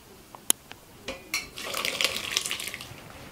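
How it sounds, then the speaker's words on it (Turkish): Cheese curds poured through a wire sieve set over a pot, opening with a few sharp metallic clinks and taps, then a soft, growing wet splashing and trickling that carries on to the end, fairly quiet and with no speech. "bir tencerenin üzerine tel süzgeç koyarak burada oluşan peynirleri süzüyoruz"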